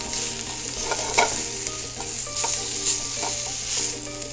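Fresh tuna and shrimp sizzling in a Gotham pan, a dense close frying crackle with a steady hum beneath and occasional utensil knocks.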